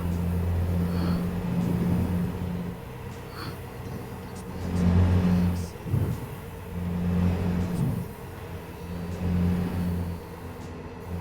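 A truck drives past at night on a road trip toward Sweden, its loud low engine rumble swelling and fading in steady pulses alongside other passing vehicle noise, with no voices.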